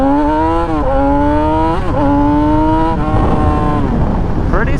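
A 2017-2021 Yamaha YZF R6 sport bike engine revs up hard through the gears, a loud close high-pitched whine climbing repeatedly with brief dips at each shift, under steady wind rush.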